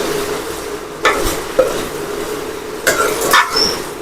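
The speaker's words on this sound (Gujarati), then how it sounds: "આપણે તેને સારી રીતે મિક્સ કરી લઈશું જો આવી રીતે આપણે મિક્સ કરી લઈશું" Masala with cumin powder being stirred in a pan over a faint steady sizzle, with a few louder scraping strokes near the start and again toward the end.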